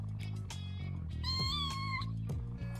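Cat in the No More Heroes video game meowing and giving a drawn-out screeching caterwaul in the middle, over low game music, fairly faint overall.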